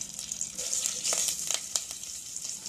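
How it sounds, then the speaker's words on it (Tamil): Curry leaves and asafoetida fry in a little oil for chilli pickle, a soft close crackling sizzle with scattered small pops and spatters. "இது நல்லா பொரிஞ்சுக்கிடும் கருவேப்பிலை பெருங்காயம்"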